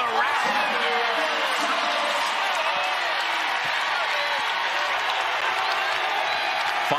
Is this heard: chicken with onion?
no